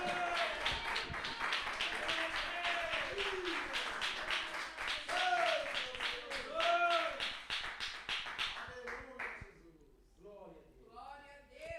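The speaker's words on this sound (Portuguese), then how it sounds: "abram a boca, batam palmas," Church congregation clapping hands together in a steady, rhythmic burst, loud and close, with voices calling out over the claps before they fade.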